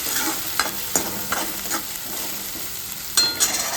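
Chopped onion tossed into hot oil with cumin seeds, a loud continuous sizzle close by, broken by periodic scraping stirs and a sharper clatter near the end, with no talking.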